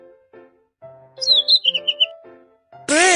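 A cartoon bird chirps in a quick run of bright, high tweets over light background music, close and clear, followed by a short sharp sound at the end.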